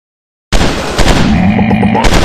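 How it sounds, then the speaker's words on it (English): Suppressed gunfire in a commando video game: a sudden burst of rapid, closely spaced shots starting after a short silence, loud and near, with sharp repeated cracks over a busy mechanical rattle. "I'm shooting these fools up! Suppressor fire on target!"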